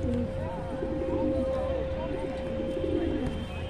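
Pigeons cooing in a loft of fancy breeds kept for sale: soft overlapping coos under a steady hum, fairly near, with a person talking over them.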